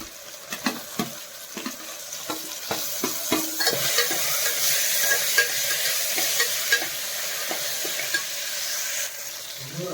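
Ginger-garlic paste and tomato fry in a hot pan for avarekalu rice bath, a steady sizzle under repeated scraping stirs of a spoon, with sharp clinks against the pan through the early seconds.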